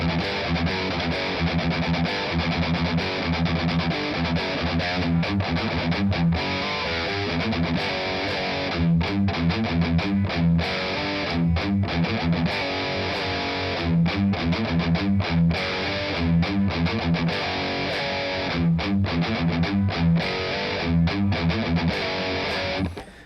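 Heavily distorted electric guitar plays riffs alone, a dense chugging chain of fast palm-muted notes with short gaps and accented chords, loud and continuous for over twenty seconds.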